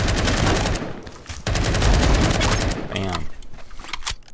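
Rapid bursts of automatic Scar rifle fire in Roblox Phantom Forces rattle loudly through most of the stretch, with short pauses between volleys and someone talking over the shooting.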